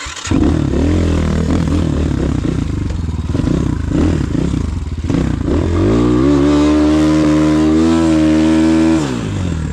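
A Rottor Bronx 300 enduro motorcycle on asphalt rattles at a rough idle, then revs hard into a loud sustained high-pitched whine during a burnout attempt before dropping off, close and without speech.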